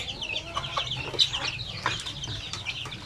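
Native chickens and chicks cluck and peep in a close, busy flock, with overlapping short calls and chirps scattered throughout.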